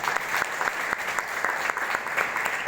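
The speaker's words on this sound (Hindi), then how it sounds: "इनके लिए ताली हो जानी चाहिए" Audience applause at a business meeting, with sharp individual claps standing out from a steady close wash of clapping and no speech over it.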